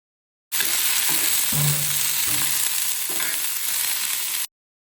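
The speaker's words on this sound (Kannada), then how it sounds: "ಬನ್ನಿ ಇವಾಗ ಕ್ಲೀನ್ ಆಗಿ ಫ್ರೈ ಮಾಡ್ಕೊಳ್ಳೋಣ" Food frying in a pan on a stove, a steady loud sizzle close up, with occasional stirring scrapes and no voices.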